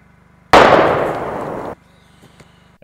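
A single loud explosion bursts suddenly and then rumbles and fades over about a second, followed by quiet low hum.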